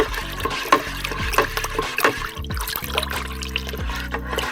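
Yeast and liquid pour into a container for homemade wine, a close, fairly loud trickling and splashing stream with small clinks throughout.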